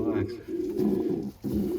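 A racing pigeon in a breeding box beside its fertile eggs coos softly up close, giving low repeated rolling coos separated by brief pauses.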